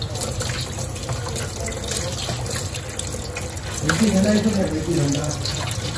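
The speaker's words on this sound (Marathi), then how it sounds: "रात्रीच मी भेंडी धुवून आणि कापून वगैरे ठेवते" Okra being rinsed under a running kitchen tap, a steady rush of water into the sink that grows louder and more splashy toward the end.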